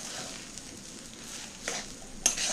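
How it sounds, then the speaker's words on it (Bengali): Gram flour (besan) mixture with sugar being stirred in a frying pan, a soft continuous scraping hiss with a couple of brief louder scrapes near the end, close and fairly quiet. "ভালো করে মাখিয়ে নিচ্ছি, ভালো করে নেড়ে নিচ্ছি"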